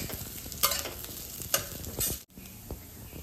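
Crushed raw peanuts stirred and roasted in hot oil tempering, with a continuous close sizzle and a few distinct spatula scrapes across the pan, fairly quiet overall and no voices.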